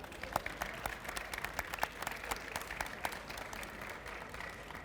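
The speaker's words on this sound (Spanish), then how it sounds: "Un fuerte aplauso, por favor." Applause from the audience at a poetry event in Indigenous languages during a book festival, with scattered, moderately distant clapping that carries on steadily through the whole stretch.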